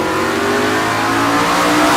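A 1965 Chevelle drag car accelerating hard at a bracket race, its loud, steady engine roar filling the whole two seconds up close, with no voices heard.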